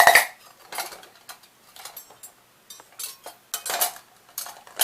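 Metal forks clatter and clink one after another into a holder, a series of bright, uneven rattling bursts close by with short pauses between.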